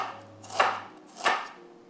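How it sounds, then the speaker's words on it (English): A knife chops roughly through fresh ginger on a cutting board, two distinct crunchy strokes about half a second apart, close and clear with nothing else around them. "I've got some ginger. I'm going to roughly slice as well."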